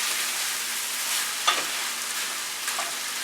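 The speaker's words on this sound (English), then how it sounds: "Our meat needs to simmer for about 10 minutes" Meat simmering with onions and peppers in a pan for a cattle drive casserole gives a steady, fairly loud sizzle and bubbling hiss, with a couple of brief scrapes or clinks near the middle and end, and no talking.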